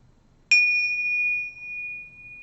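A single bell or chime is struck once, ringing out with a clear sustained metallic tone that slowly fades in a quiet room during an energy-clearing session.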